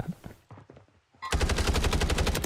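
Warzone gunfire starts with a few scattered shots, then breaks into a loud, rapid, evenly spaced automatic burst that runs to the end.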